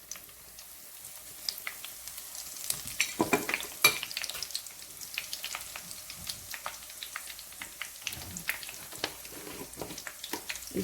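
Whole garam masala spices go into a pan of onions, and a soft sizzle and frying crackle follows, with occasional stirring scrapes and small clinks. Close and fairly quiet, no talking.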